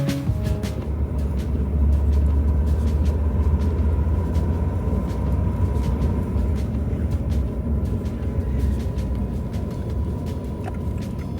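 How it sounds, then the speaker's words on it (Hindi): Heavy road traffic heard from inside a car: a constant low engine and road rumble fills the cabin with passing vehicle noise and small ticks, steady and loud, with no voices. "बहुत ज़्यादा ट्रैफिक है, बहुत ज़्यादा।"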